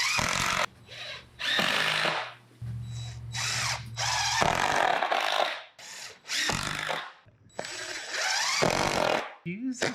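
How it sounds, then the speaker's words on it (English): A power drill drives wood screws into wood to hold down a stiffener piece while building a teardrop camper, several short loud whirring bursts with pauses between them and a person talking in the gaps. "putting in some wood screws to hold down the stiffener piece"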